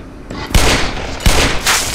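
Two heavy revolver shots from the game Black Mesa, loud and close, about three-quarters of a second apart, each followed by a short ringing tail, with no talking.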